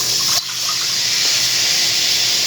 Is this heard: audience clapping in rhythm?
no